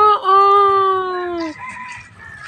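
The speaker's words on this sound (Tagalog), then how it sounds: "Manok." A single rooster crows once, close and loud, a long drawn-out call that fades out, followed by a low murmur of background activity at a fishpond farm.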